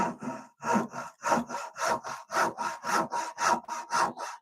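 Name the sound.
hand saw cutting wood for an angle bracket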